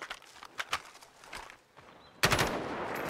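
Video game gunfire cracks out in scattered single shots, then a dense, loud burst of rapid fire takes over near the end, with faint movement sounds between the shots.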